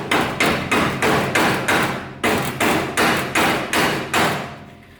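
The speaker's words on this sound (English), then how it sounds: "which might have to get tapped on" A steering spindle on a Daytona Coupe build is struck with a mallet to seat a snug-fitting front hub, about ten firm, evenly spaced thumps over several seconds, close and loud with no talking.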